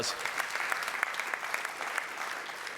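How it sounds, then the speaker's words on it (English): At a downtown association's annual meeting, an audience claps in a steady, dense burst of applause that holds evenly, moderately loud, with no speech over it. "that's worth a round of applause"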